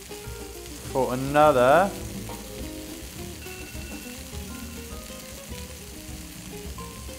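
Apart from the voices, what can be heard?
chicken burger patties frying in a pan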